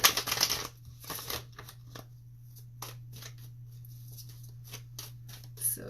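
Egyptian tarot cards are shuffled in soft bursts of riffling and light flicks, quiet and close, with pauses between handfuls and a low steady hum underneath.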